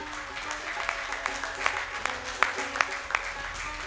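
An audience at a poetry gathering in Gujranwala applauds to welcome a poet, a soft scattered clapping with a few sharper individual claps standing out over a faint background.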